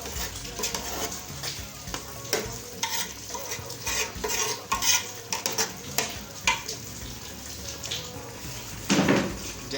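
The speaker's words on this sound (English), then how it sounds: "And stir." Beans and corn porridge with fresh fish being stirred in a pot, a steady run of scraping, clacking spoon strokes against the pot with a soft simmering bubble underneath, close and fairly loud, no voices.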